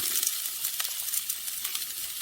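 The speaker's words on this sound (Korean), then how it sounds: "먼저 썰어놓은 양파 먼저 볶겠습니다" Sliced onions stir-fry in a hot pan for dried radish japchae, giving a steady close sizzle and hiss with occasional light scrapes and clinks of the utensil.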